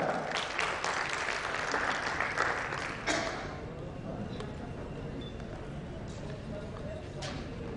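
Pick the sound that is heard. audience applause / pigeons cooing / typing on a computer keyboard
audience applause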